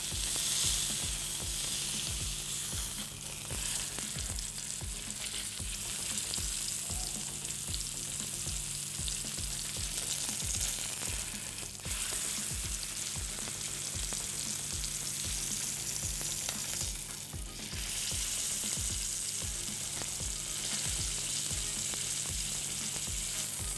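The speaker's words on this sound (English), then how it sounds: "So you hear that sizzle? That's when you want to hear when you put the steak in." Loud, steady sizzling of a rib eye steak frying in a hot pan, a continuous crackling hiss with occasional brief shifts, close by and with no voices.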